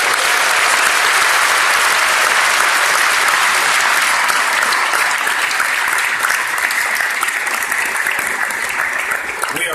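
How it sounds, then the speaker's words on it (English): A large audience at an interfaith breakfast with the mayor bursts into loud, sustained applause that holds steady as a dense wash of clapping for nearly ten seconds. "Let's give them all a great round of applause"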